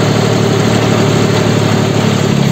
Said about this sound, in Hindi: तो भाई ट्रैक्टर ले जा रहा हूँ एक बार डबल से